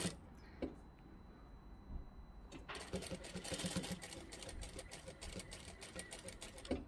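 A domestic sewing machine runs in a steady rapid chatter, back-stitching a seam through a towel topper handle at a half-inch seam allowance, starting after a quiet pause and continuing close and fairly loud to the end.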